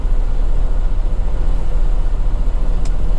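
Steady low rumble of Friday road traffic heard from a truck, engines droning continuously close by with no pauses, a brief high squeal near the end.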